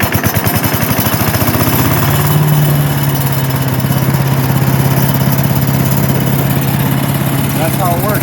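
A chipper shredder's small gas engine fires up on choke and settles into a steady, loud low idle, with a strong droning hum throughout and a voice speaking over it.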